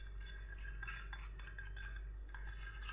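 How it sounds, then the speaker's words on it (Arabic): A small spoon stirs a thick natural hair-dye mixture in a little bowl, producing soft, quiet, repeated scraping strokes over a low steady hum, with no voices. "وكتخلطوا مزيان حتى ينسجموا هاد العناصر هادو"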